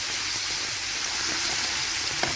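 Minced ginger sautéing in a pan for a vegetable shrimp noodle stir fry, a steady close hiss of frying with a faint tap near the end and no talking.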